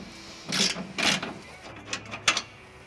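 A wrench loosens the forwardmost frame bolt on a 1995–2004 Toyota Tacoma during bumper removal, making two quick ratcheting bursts, a pause, then several shorter clicks close by in a quiet space.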